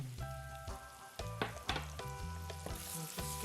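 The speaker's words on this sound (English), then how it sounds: "I'm going to flavour the oil. So I'm going to add some of the onions that I chopped earlier" Chopped onions and garlic sizzle steadily in hot oil on medium heat, with a crackling hiss broken by several sharp clatters of stirring, close and fairly quiet.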